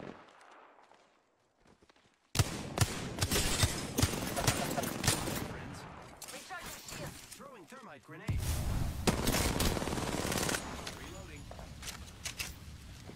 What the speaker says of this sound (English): Damn, I'm missing all my shots.